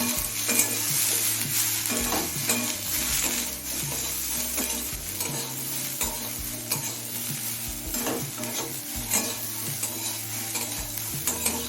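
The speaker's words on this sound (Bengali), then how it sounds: "গুঁড়ো মশলাগুলো দিয়ে আরও পাঁচ ছ মিনিট একটু ভাজা ভাজা করে নিয়েছি" Ground spices, turmeric and Kashmiri chili powder, are stir-fried in a pan. A spatula scrapes in repeated strokes over a constant loud sizzle, with a low tonal hum running underneath.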